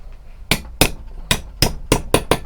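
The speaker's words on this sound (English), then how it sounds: "I'm going to actually just punch it through with a punch" A hammer drives a steel punch through sheet metal for an all-metal dagger, seven sharp, loud, ringing blows at an uneven, quickening pace, close by and with no talk.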